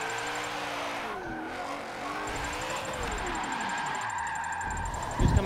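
BMW E92 drifting in Forza Motorsport 7, engine pitch sweeping up and down under a continuous tire squeal, loud and close throughout with a sharp burst at the end.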